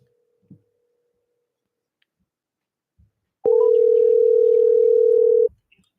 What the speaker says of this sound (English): I have to dial the damn number.